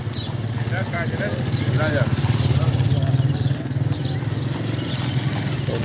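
Motorcycles pass along a village street in Cairo, Egypt, their engines a steady nearby drone that swells mid-clip and then eases, with someone talking over the traffic throughout.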